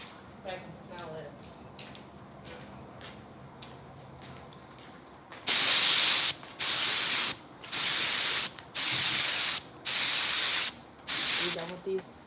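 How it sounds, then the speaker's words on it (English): Aerosol spray paint hissing from a can, six short, loud bursts in a regular rhythm close by, following a stretch of quiet talking and room noise. "Are you done with these? Like, spraying them that color?"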